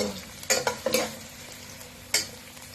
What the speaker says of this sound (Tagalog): Lagyan na natin yung luya. Saka haluin lang.